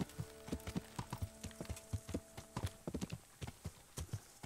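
Horse hooves in the video game Kingdom Come on PS4 Pro clop in a quick, uneven rhythm of distinct close hits on a hard surface, steady across the whole stretch with a low hum beneath.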